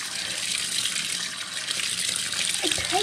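Cold water runs from a bathroom tap in a steady, close rushing stream that holds at an even level from start to finish, with a brief faint clink near the end.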